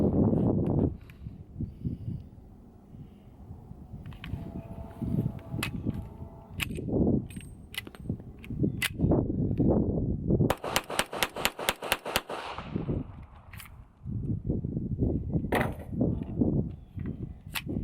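Rapid gunshots from a Hi-Point JCP .40 pistol fired outdoors, a tight string of loud sharp cracks in quick succession with single shots spaced before and after, over wind and background noise.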